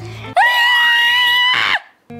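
A voice lets out a long, piercing, high-pitched scream imitating a super mermaid, loud and close, held for over a second and then breaking off, with brief game sounds on either side.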